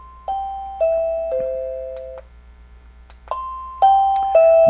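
A Rebluum wireless doorbell chime rings at its loudest volume setting, playing two clear ding-dong note sequences separated by a short pause, bright and close with no talking.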